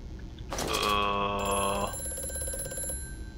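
An old telephone in Amnesia: A Machine For Pigs rings with a loud metallic bell trill for over a second, then a steady electronic tone lingers, set against a quiet, hollow room ambience.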